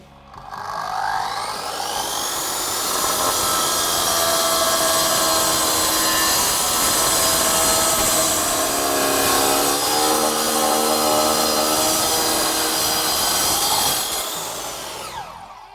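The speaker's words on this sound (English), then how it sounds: "Let's try this big old slab and see what happens with the 9-incher." A 9-inch diamond blade cutter slices through a hard concrete paving slab, giving a loud, steady, high-pitched grinding whine with gritty roughness that holds for about fourteen seconds before spinning down, with no talking.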